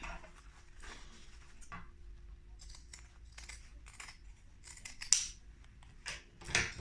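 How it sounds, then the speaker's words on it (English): Scissors snip repeatedly through excess zipper tape, crisp close cuts in an irregular rhythm with quiet pauses, no voices. "And then we just cut off the excess"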